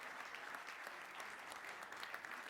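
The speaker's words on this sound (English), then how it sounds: "Give Sarah a round of applause." An audience gives a round of applause, dense and steady clapping throughout, fairly distant and soft, with no talk over it.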